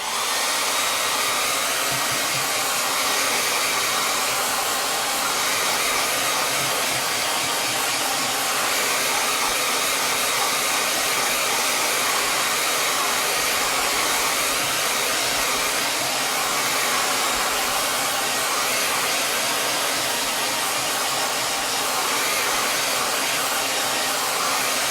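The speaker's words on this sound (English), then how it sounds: "we're going to have to hit this with the blow dryer quickly just for time's sake" A handheld blow dryer runs continuously at close range for the whole stretch, a steady even hiss-roar with no pauses and no voices over it.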